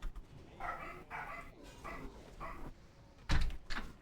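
A pet dog named Piper barks at the postman from indoors: several short bursts spaced through the first half, then a louder, closer bark near the end, with a door-like knock or bump mixed in.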